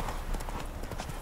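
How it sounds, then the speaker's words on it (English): A horse gallops in The Witcher 3 video game, its hooves clip-clopping in a quick, rhythmic beat over a constant background bed during a very brief moment. "Run, Roach"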